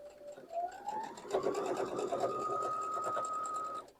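A sewing machine chain pieces quilt fabric for a Dutchman Puzzle quilt block, its needle running in a fast, steady, close whir for a few seconds, rising in pitch as it speeds up and then stopping.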